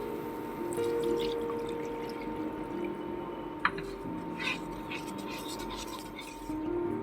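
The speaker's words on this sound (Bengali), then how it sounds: "এবার আমি জল দিয়ে দেবো।" Water is poured into a pan for a makhana and paneer curry, a soft and fairly quiet stream of liquid heard close by over a faint steady kitchen hum.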